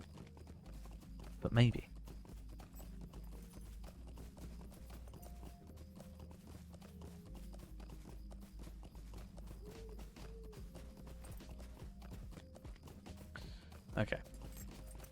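Hooves clip-clop at a steady running rhythm from a horse mount in the online game Lord of the Rings Online, continuous and moderately quiet beneath someone talking, with brief louder bursts.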